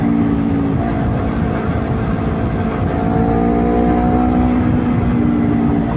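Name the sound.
Honda CBR250RR motorcycle accelerating at full throttle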